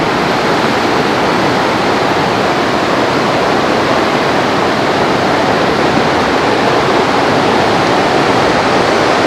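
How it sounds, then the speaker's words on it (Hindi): A fast mountain river in Himachal roars loudly and steadily close by, a dense unbroken rush of turbulent water with no pauses. "काफ़ी तेज पानी है ना, बहता हुआ।"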